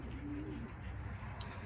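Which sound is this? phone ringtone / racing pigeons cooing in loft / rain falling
racing pigeons cooing in loft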